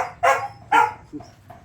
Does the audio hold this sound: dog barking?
yes